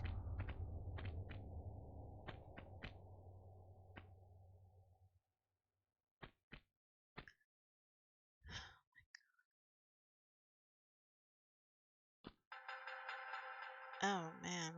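Phone notifications go off while Tomb Raider is played: several short electronic chimes and blips scattered across the clip, with a louder melodic ringtone-like alert at the end, following a low steady hum that cuts out early.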